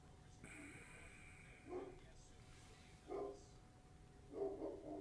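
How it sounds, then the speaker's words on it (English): A dog barks three times at a distance, faint and spaced a second or so apart, over low background noise. "you can probably hear the dog barking up there"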